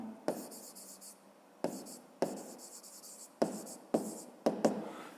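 Pen writing an answer by hand on paper, a close series of short scratchy strokes separated by brief pauses, with no talk.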